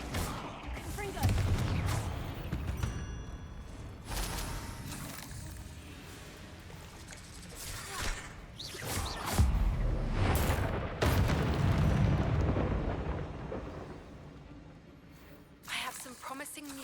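Confringo fire spell explosions in a Harry Potter game, several booming blasts spread through the span with a voice talking in between.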